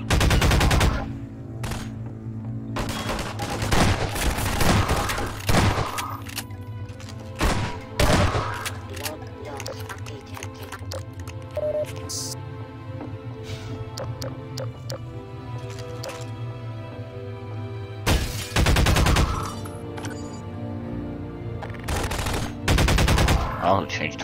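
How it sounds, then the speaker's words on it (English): Submachine gun fire in the video game Half-Life 2, several loud rapid bursts of automatic shots with pauses between them over a steady game ambience. "Submachine gun."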